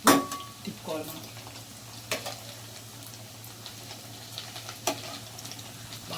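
Bread slices fry in a pan for bread halwa with a steady sizzle, broken by a few sharp scrapes and clanks as the pieces are turned, all close and moderately loud.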